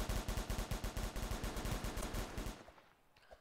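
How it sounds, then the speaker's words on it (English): Rapid automatic gunfire crackles in the Roblox roleplay game ER:LC, a loud, steady stream of shots for about two and a half seconds before cutting off into quiet. "Oh, no, you're getting shot at."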